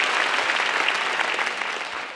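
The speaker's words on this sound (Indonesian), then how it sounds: "Beri tepuk tangan sekali lagi untuk Bang Densu" An audience at a stand-up comedy roast show claps for comedian Densu, a steady, fairly loud wash of applause throughout with no voices standing out.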